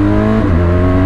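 Steady, loud engine and exhaust drone from a 2017 BMW R1200GS motorcycle while riding, an even tonal hum with no voices.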